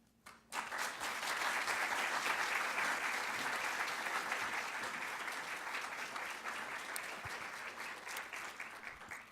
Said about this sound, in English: please join me in one more round of applause for all our amazing recipients